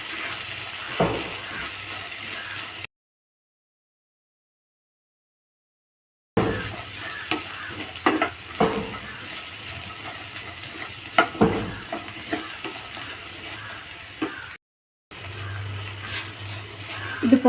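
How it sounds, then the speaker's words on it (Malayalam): Okra sautés in a pan with a soft, steady frying sizzle, broken by scraping and stirring clicks of a spatula. The sound is close and continuous apart from two silent gaps. "നന്നായിട്ടൊന്ന് വഴറ്റിയെടുക്കാം."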